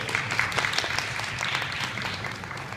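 Applause ripples through a seated audience at a disability summit speech, brief steady clapping with no voices, heard from within the room.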